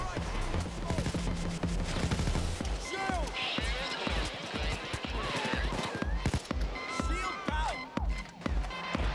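Close, rapid bursts of automatic gunfire in Payday 2, fired point-blank at a Bulldozer enemy, crackling under a dense mix of game noise and speech.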